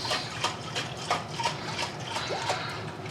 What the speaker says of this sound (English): I'm going to add some water to this to add just a little bit more liquid in order to get out all of the flavorings